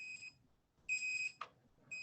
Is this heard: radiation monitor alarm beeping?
yes